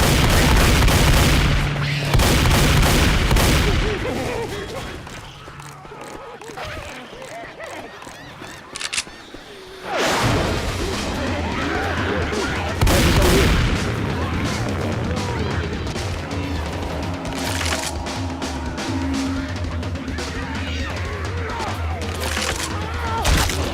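Shotgun blasts in Left 4 Dead 2 boom loudly several times amid chaotic game noise, with a sharp burst near the start and another around ten seconds, plus speech-like voices mixed in.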